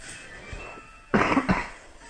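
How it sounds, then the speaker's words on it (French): A person coughs twice in quick succession, close and fairly loud, after a quiet stretch with faint background noise. "j'en ai un petit peu marre de tousser toutes les 2 secondes"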